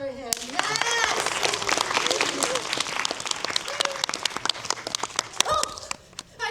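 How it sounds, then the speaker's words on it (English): A museum audience at the Natural History Museum Los Angeles applauds steadily and close by, with scattered individual claps and voices mixed in for several seconds. "We should clap for him."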